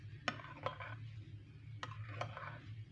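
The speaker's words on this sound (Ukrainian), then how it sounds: "легенько його ложкою розмішаю, легенько ось так" A spoon clinks a few times against a bowl in light, irregular taps while stirring egg yolk, with a soft quiet background between strikes.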